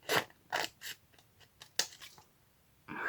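Scissors snipping through challenge papers in a series of crisp, close cuts, several quick snips spaced irregularly with short pauses between them, no talking.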